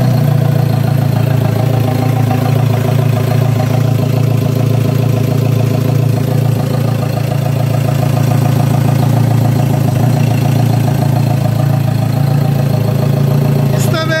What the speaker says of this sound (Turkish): Emme ve egzoz manifoldların hiçbiri takılı olmadığı için çırılçıplak çalıştırıp motorda bir şey var mı diye bakalım dedik